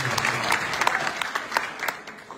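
Rally audience applauding political leaders, a dense continuous patter of many hands at moderate distance, steady throughout with a few sharper claps standing out.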